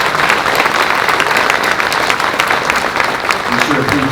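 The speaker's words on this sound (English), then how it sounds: "let's give another round of applause for the Great Falls Police Department for that fantastic ceremony" A crowd claps loudly and steadily for the Great Falls Police Department after a ceremony at an outdoor municipal band concert, with sustained applause throughout.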